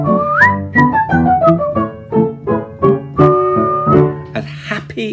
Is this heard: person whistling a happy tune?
yes